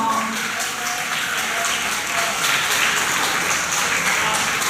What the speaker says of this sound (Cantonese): 請大家呢一次過俾啲掌聲